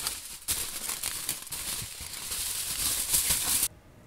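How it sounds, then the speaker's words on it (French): Aluminium foil crinkles and crumples in close, bursty rustles while it is wrapped around a phone, then stops abruptly. "Je vais essayer d'envelopper le téléphone dans du papier aluminium et on verra ce que ça donne."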